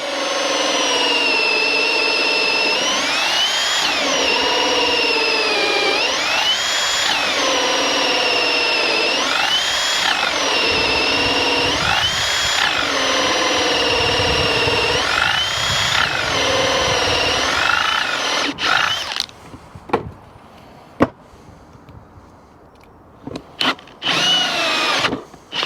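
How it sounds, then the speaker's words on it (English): Hilti drill driving a 51mm hole saw into wet timber, with a loud, close, steady whine that rises and dips in repeated cycles as the saw bites. It stops near the end, leaving a few sharp clicks and knocks. "So we've got a 51mm hole saw in there. Let's just give it a blast. Now the timber is quite wet."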